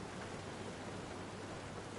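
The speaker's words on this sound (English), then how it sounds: "I like the sound of the rain in this game" Rain in the Forza racing video game makes a steady, even hiss that holds without a break, soft and continuous.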